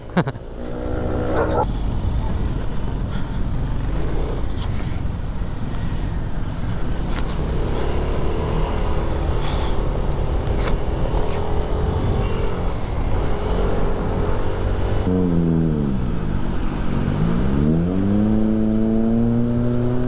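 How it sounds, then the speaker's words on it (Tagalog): A Toyota Avanza with an open muffler revs and drives past on Ortigas Avenue in Manila, its loud engine roaring continuously among street traffic, with a rising and falling rev sweep near the end. "Avanza, naka open muffler, oh. race car yan"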